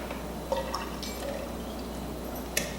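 A cocktail pours out of an IKEA salad spinner in a soft liquid trickle with a few sharp drips and splashes, close and fairly quiet, with no talking.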